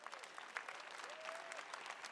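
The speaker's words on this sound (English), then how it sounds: "Let's give them all a round of applause." Applause from the audience at the Electronic Arts E3 2018 show, a dense, even patter of many hands clapping, heard faintly and at a distance.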